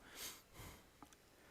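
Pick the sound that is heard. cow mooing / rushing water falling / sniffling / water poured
sniffling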